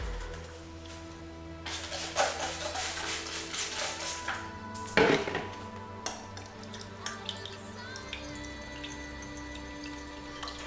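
Water runs steadily from a tap into a sink while a homebrewing vessel is being sanitized, close and continuous, with clinks of equipment and splashing scattered throughout.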